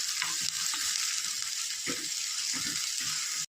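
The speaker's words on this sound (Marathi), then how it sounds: "कांदा तळून घ्यायचा आपण" Chopped onion frying in hot oil in a pan while cooking chicken biryani, a steady bright sizzle with occasional stirring scrapes, close and continuous until it cuts off at the end.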